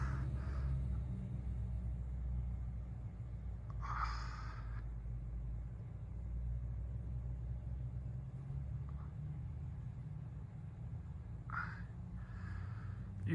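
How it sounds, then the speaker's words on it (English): A neighbor's car driving by on a cold day, with a low steady rumble throughout and a few faint passing swishes in the distance. "Oh, neighbor's driving by."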